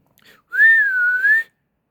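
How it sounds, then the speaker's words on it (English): A woman gives a loud two-finger whistle, a single sustained piercing tone with a slight rise and fall, lasting about a second and heard alone. "She put two fingers to her mouth and whistled very,"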